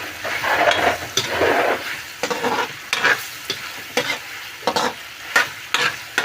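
Pork and chicken brown in a pan for afritada, with a steady loud sizzle of frying and repeated scraping, clattering stirs of a utensil against the pan throughout.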